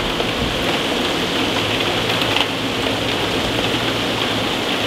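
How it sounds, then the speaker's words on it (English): Heavy rain pours steadily in a dense, unbroken hiss near a small fishing village, loud and constant with no voices. "I guess I will just wait until it isn't raining this much anymore"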